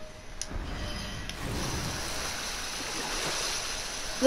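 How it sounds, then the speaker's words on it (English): Steady broadband rush of flowing water in the video game Darksiders 2, a continuous stream-like wash that swells slightly after the first second and holds at a moderate, even level with no talk. "The water is making it through, though."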